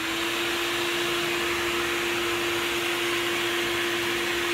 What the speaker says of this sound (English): so I do have to have that vacuum cleaner on